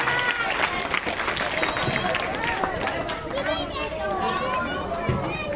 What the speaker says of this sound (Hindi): बच्चों जोर से तालियां बजाओ